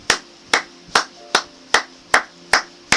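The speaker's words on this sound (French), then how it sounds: "Acclamons pour la gloire de Jésus." Church congregation clapping in unison, eight sharp, evenly spaced claps about half a second apart, close and loud with no talk.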